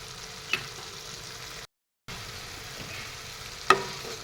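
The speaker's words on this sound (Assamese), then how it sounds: "এনেদৰে অলপ টাইম ভাজি দিম যেতিয়ালৈকে অলপ আদা নহৰু গোন্ধটো নাইকিয়া হৈ নাযায়" Ginger and garlic fry in a pan while cooking a fish curry, giving a soft, steady sizzle with a couple of sharp stirring clicks and a brief dropout to silence midway.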